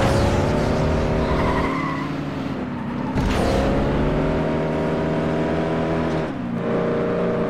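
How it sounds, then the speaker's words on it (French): Engines roar in the FlatOut 2 racing game, with tires skidding and crumpling sheet metal from crashes. The mix stays loud and dense throughout, with sustained engine tones that dip briefly around the middle and again near the end. "C'est vrai que les bruits de tôle froissée en plus des moteurs,"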